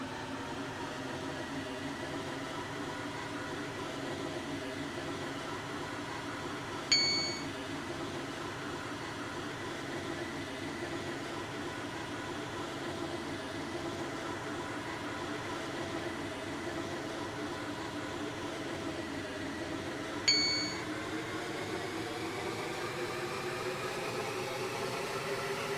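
A train from the Stepford County Railway game runs steadily, giving a continuous broadband rumble and hiss with two brief high chime-like tones cutting through.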